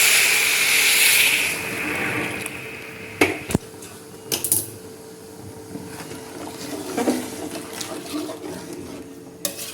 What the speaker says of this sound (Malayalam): ഞാൻ ചൂടുവെള്ളം, നല്ല തളിച്ച വെള്ളമാണ് ഒഴിക്കുന്നത്